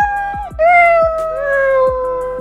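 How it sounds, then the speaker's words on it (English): The Scratch cat's default meow sound effect from the Scratch editor, a single clear, loud synthetic cat meow with a sliding pitch, heard alone without any talk. "The famous Scratch cat makes a meow sound by default."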